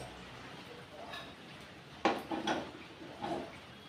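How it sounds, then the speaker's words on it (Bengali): Cooked chicken tipped from a pan into a pot, with a sharp metallic clatter of cookware followed by a few softer scraping and clinking bursts at close range over low kitchen background noise. "পাত্রটার মধ্যে ঢেলে নেব।"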